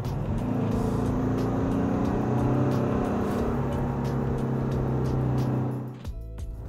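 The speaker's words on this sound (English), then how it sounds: "The exhaust note can only be appreciated at low RPMs." A 2021 Maserati Levante in sport mode accelerates through a short pull, its exhaust and engine droning loud and steady from inside the cabin. The sound eases off sharply near the end.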